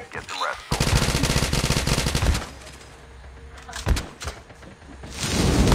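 Shotgun fire in a battle royale video game comes as loud, close blasts, a dense stretch of shots followed by a single sharp report and more firing near the end.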